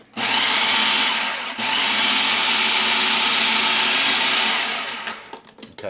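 A blender whirs loudly while pulsing carrots, onions and garlic, a steady motor drone broken by one brief pause, then winding down with rattling chopping sounds at the end.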